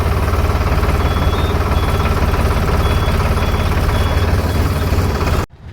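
A tractor engine chugs close by as the machine turns, a loud, steady low rumble that runs throughout and cuts off abruptly at the end.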